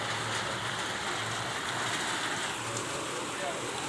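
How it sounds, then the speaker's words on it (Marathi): Heavy downpour, with hail reported earlier in the storm, falls outside a hostel in Chhatrapati Sambhajinagar during summer as a steady, dense roar of rain that holds at an even loudness throughout. "एवढं पाऊस पडायला लागलं"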